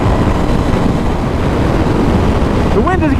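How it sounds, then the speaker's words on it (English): Strong wind roars steadily over the microphone while a 2017 Ducati Scrambler Desert Sled motorcycle is ridden on the highway. The rush stays constant and loud, and a voice briefly comes in at the end. "The wind is getting a little worse."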